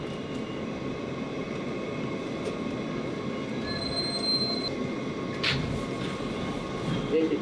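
A New York F local subway train rumbles along the tracks with steady broadband roar, high metallic wheel squeal tones rising midway and a brief sharp screech near the end, no talk.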